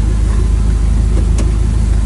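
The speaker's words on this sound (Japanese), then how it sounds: "マフラーは超いい音する" A 1959 Impala lowrider, heard from inside the car, rumbles with a deep, loud, steady engine and muffler drone and a brief rise partway through.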